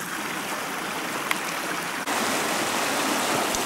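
Creek water in Parfrys Glen rushes steadily over rocks in spring, a continuous close, full-bodied wash with a brief knock midway and no voices.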